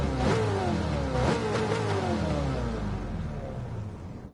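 A car engine in Gran Turismo 7 revs hard and loud, with rising and falling pitch sweeps as it shifts through gears, sustained over several seconds and fading slightly at the end.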